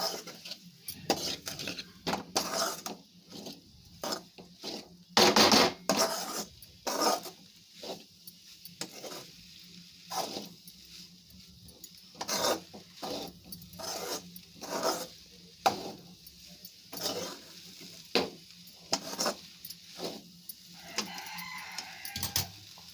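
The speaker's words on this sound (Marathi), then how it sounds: "व्यवस्थित मिक्स करून घेऊया." Grated coconut stirred into a Malvani-style bean stir-fry, with a utensil making repeated close scraping and rubbing strokes against the pan in an uneven rhythm.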